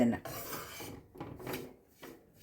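Wheat flour roasting in ghee in a pan is stirred with a utensil, producing soft rasping scrapes in a few uneven strokes, close and quiet.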